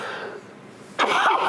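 A single harsh cough bursts out close to the microphone after a quiet moment, loud and brief.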